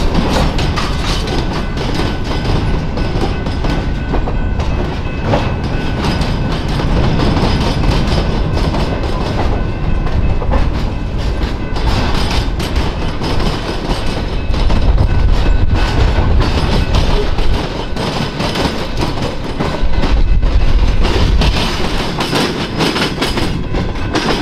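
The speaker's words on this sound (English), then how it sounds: "The Diamond is a one-way low-speed diamond which slightly lifts the Ann Arbor Railroad trains up over the Norfolk Southern Main Line." An Ann Arbor Railroad train creeps over a low-speed one-way diamond crossing the Norfolk Southern main line, limited to 10 mph, giving a steady loud rumble with rhythmic clickety-clack of wheels over the crossing frogs, close by and continuous.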